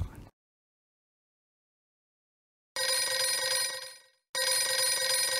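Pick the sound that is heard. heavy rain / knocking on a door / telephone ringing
telephone ringing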